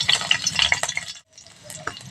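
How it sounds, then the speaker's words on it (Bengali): Chopped garlic crackles in hot mustard oil with bright spitting bursts, then drops briefly to near silence before a softer sizzle resumes. "তেলটা গরম হয়ে গেছে, যে রসুন কুচিটা রেখেছিলাম সেই রসুন কুচিটা ফোড়ন দিচ্ছি।"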